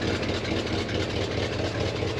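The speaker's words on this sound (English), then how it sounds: "there's the drive shaft. It's driving the hydraulic pump" Steady low engine hum from an old Dodge W300 4x4 dump truck, its drive shaft spinning a hydraulic pump, continuous and fairly close with no voices.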